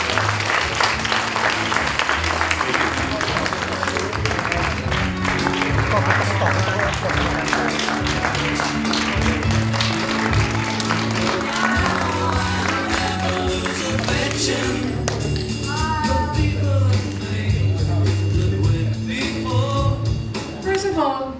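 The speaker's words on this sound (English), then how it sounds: "a round of applause for that" Audience applause at a 25th anniversary celebration in a hotel conservatory, sustained clapping with crowd noise over music, voices and cheers rising near the end.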